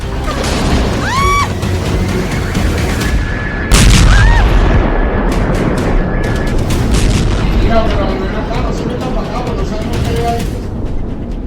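Heavy blasts from a string of large explosions at several sites in Venezuela, a loud broad boom around four seconds amid dense rumbling noise, with whistling and a sustained tone through the mix.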